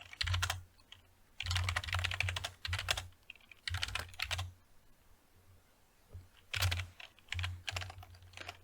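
Bursts of rapid typing on a computer keyboard, clattering in quick runs separated by short pauses, fairly close and alone with no voices.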